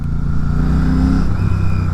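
A Royal Enfield Classic 650 twin-cylinder motorcycle engine runs close by with a steady, loud throbbing drone and a slight rise in revs, continuous throughout with no talking.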